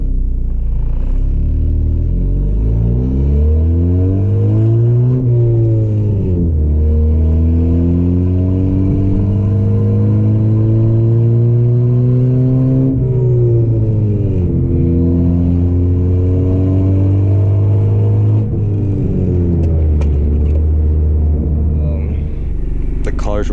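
A 10th-generation Honda Civic Si with an open front pipe accelerates hard through the gears from inside the cabin, its loud, raspy engine tone rising steeply and dropping at each shift over a constant rumble.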